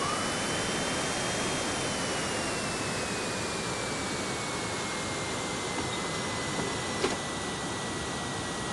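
Boeing 727 landing gear extending in the RFS flight simulator game: a steady, loud broadband rush of airflow and engine noise fills the cockpit, with a brief sharp thump near the end as the gear locks down.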